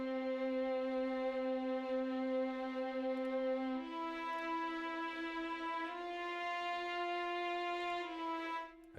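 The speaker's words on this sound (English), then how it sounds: "what I did is I added some violin" Sustained bowed violin tones from the Native Instruments Session Strings Pro 2 sample library, playing long legato notes that step upward in pitch every couple of seconds, rich in harmonics, alone without talk.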